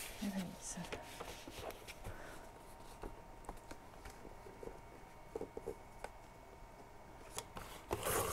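Scissors snip and rasp along the edge of a notebook cover during a craft session, a run of small close cuts and paper rustles under quiet background noise.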